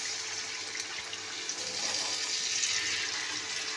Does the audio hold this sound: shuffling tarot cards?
no